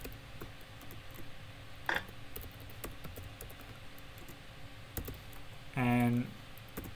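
Faint, scattered clicks of typing on a computer keyboard sound in a quiet room, with a short tonal beep near the end.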